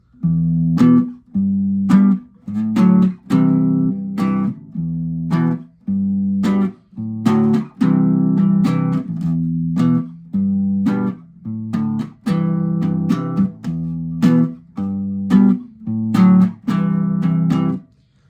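Bass guitar chords ring out one after another in a slow, steady rhythm, each a deep plucked strum that sustains briefly before the next, with no voices.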